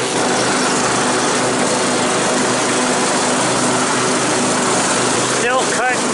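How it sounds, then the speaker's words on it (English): A lawn mower cuts grass steadily in the open, a broadband engine drone running throughout at constant loudness, with a couple of brief squeaky sounds near the end. "Still cutting grass."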